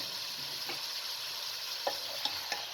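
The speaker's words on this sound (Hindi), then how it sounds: "अच्छे तरीके से चम्मच चला लें ताकि तमाम चीज़ें मिक्स हो जाएं" A spoon stirs cauliflower, potato and carrot with mashed tomatoes in a pan over a medium flame, against a steady close sizzle broken by a few soft scraping knocks.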